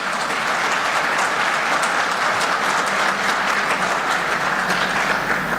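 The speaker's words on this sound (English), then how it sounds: "A big round of applause" A big round of applause from the audience at a women's conclave, thanking the organisers behind the schedule; a steady, loud roar of many hands clapping that holds evenly throughout, with no voices over it.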